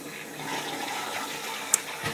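A toilet flushes after septic treatment powder is added, a steady rushing swirl of water that stays fairly quiet and continuous, with a brief sharp click near the end.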